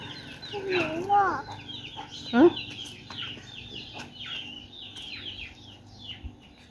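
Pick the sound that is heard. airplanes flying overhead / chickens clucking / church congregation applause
chickens clucking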